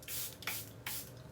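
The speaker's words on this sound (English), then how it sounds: "here's the Airbrush Flawless Setting Spray. It's the Charlotte Tilbury." Charlotte Tilbury Airbrush Flawless Setting Spray fires in three quick hissing pumps, close and crisp, with no voice over them.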